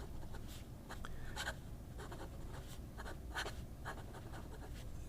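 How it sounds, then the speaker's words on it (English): A fountain pen with an 18 karat gold flex fine nib scratches softly across paper in short bursts of strokes, faint and close, with steady background hiss and no speech. "you know you're writing with a gorgeous gold nib"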